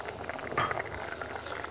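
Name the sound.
chicken and sauce cooking in a frying pan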